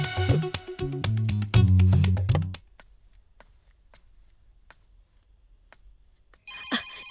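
A phone rings with a loud, melodic ringtone that plays for a couple of seconds and then cuts off, leaving near-silence with faint ticks before another short burst of tone at the end.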